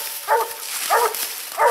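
Hunting dogs out on a raccoon hunt give three short, moderately loud barks or yelps at a steady rhythm, with quiet background between them.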